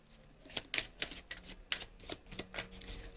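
Tarot cards shuffled by hand, a quiet run of papery riffles and soft flicks that come in irregular bursts close by, with no talking.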